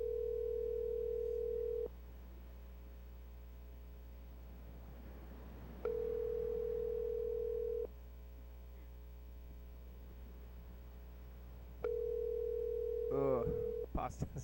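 A telephone ringback tone sounds while a call is placed: three steady, quiet, humming tones of about two seconds each, separated by roughly four-second gaps, over a low constant hum, with a brief clatter at the end.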